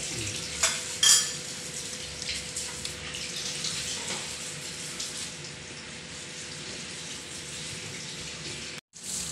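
Jackfruit being stirred in a pan of melted, thickening sweet syrup, a steady wet sizzling bubble with a few brief scraping clinks near the start, close and continuous, no voices.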